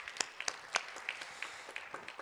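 Sparse, quiet clapping from a church congregation, scattered individual claps at an uneven rhythm, distant and thin.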